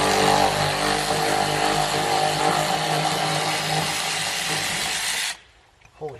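A Torx bolt backed out of a Jeep Comanche during teardown, heard as a loud continuous power-tool whir and hiss running for about five seconds, then cutting off abruptly into near silence with a small clatter at the end.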